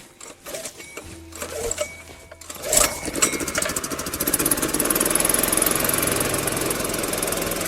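A 17 kg petrol generator with a manual choke is tested in cold Siberian taiga. After a few faint clicks and rattles it catches with a burst, then runs in a steady, close, buzzing drone.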